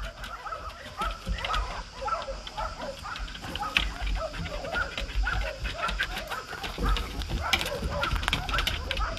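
Several dogs bark repeatedly at an animal shelter, overlapping yaps and woofs scattered across the clip at moderate distance over a busy outdoor background.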